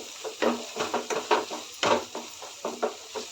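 Vegetables with turmeric frying in a pan for a beetroot fry, heard as a run of rhythmic spatula scrapes and stirs over a light sizzle, close up and brief.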